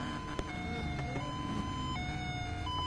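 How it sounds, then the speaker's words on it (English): Police car sirens wail continuously with stepped, alternating tones over steady road and traffic noise, loud and close throughout. "Sorry guys, when I hear police sirens, I don't stop."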